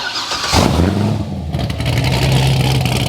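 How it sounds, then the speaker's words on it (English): A totaled Corvette being converted into a racecar revs loudly with its exhaust in loud mode, a close, roaring engine swell that holds a strong, rumbling drone. "you're able to make the exhaust even louder than it already is and quiet too"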